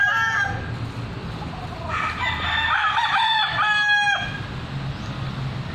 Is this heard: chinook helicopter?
no